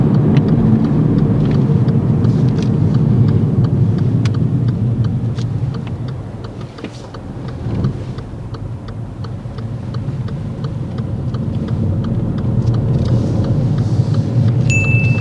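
A learner's car rolls through a roundabout in low gear, the engine droning steadily from inside the cabin with faint ticking, dipping briefly midway before the rumble builds again.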